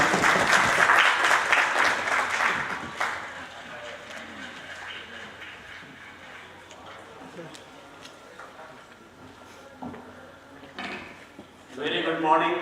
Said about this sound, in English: Huge round of applause for Patil.